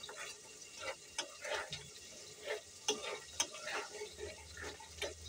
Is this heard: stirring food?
yes